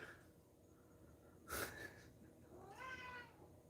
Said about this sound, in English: I don't know if you could hear him meowing.